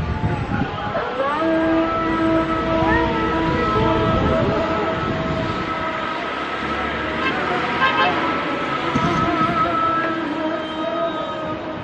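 The Islamic call to prayer (adhan) rings out across Istanbul, heard from a rooftop. Distant, wavering chanted voices overlap from several directions over a constant hum of city noise.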